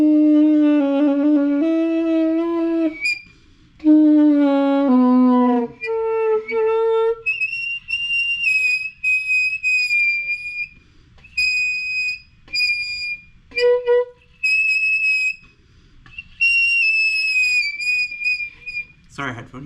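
A 3D printed saxophone plays a series of short, reedy notes that climb from low tones to high, thin squeals, separated by gaps, with some talking underneath.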